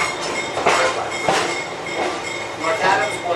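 A train rolls along the Pittsfield & North Adams rail line between Adams and North Adams. Steady rumble is marked by periodic wheel clatter bursts from close on board, with a voice speaking over it.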